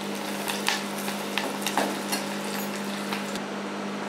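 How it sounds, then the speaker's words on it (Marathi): Onion and a few curry leaves frying in oil in a pan for a sprouted chickpea amti, a steady close sizzle with light crackles and a couple of sharper pops. "आपला कांदा छान फ्राय झालेला आहे, आता 2-4 कढीपत्त्याचे पाने टाकूया।"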